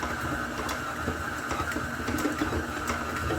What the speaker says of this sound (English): Oh, that mixer's got plenty of power.